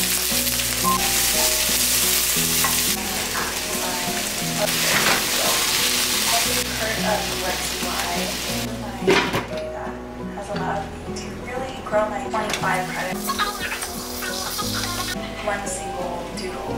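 Mutton paneer sizzles and spits steadily in a hot pan, the frying hiss running continuously beneath loud background music throughout.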